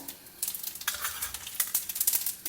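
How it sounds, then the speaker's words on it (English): Mustard seeds and urad dal crackle in a spoonful of hot oil for tempering, a fairly faint, uneven sizzle of quick popping spatters that grows busier toward the end, no talking. "heat a spoon of oil, add some mustard seeds, urad dal"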